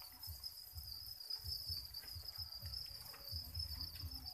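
Crickets on a cricket farm chirp in a steady, dense chorus, a continuous high trill with rhythmic pulsing, close and loud, with no talking.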